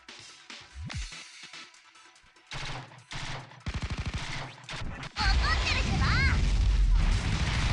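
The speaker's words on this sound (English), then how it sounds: "Gatling gun." Gatling gun firing in the video game Blue Archive, a loud sustained burst of rapid fire dominating the last few seconds after quieter game sounds and short bursts, with a voice talking in places.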